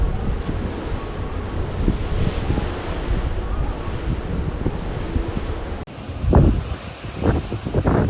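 Ocean waves and wind heard from the deck of the MSC Seashore cruise ship heading south toward Mexico, a loud steady rush of wind buffeting the microphone over rolling surf, with a sharper gusty stretch near the end.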